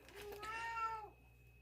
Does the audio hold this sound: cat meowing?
yes